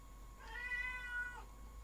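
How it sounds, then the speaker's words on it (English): A domestic cat indoors gives a single drawn-out, rising-then-falling meow lasting about a second, fairly close and clear against a quiet room hum. "There's my cat saying, I want to go out."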